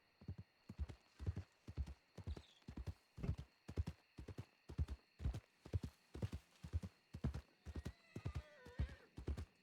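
Horse hooves clip-clop in a steady, even walking rhythm in Red Dead Redemption 2, each strike close and distinct, a constant background hum underneath and a brief whinny-like cry near the end.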